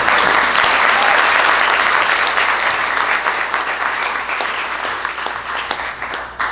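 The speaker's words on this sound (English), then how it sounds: "Let's give him a nice round of applause" Audience at an annual fundraising breakfast for a bike organization claps in a loud, dense round that gradually thins and fades toward the end.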